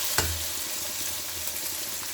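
Minced meat keema, cooked with a view to aloo matar keema, sizzling steadily in a pan after a brief clatter at the start, a continuous close frying hiss with no talk.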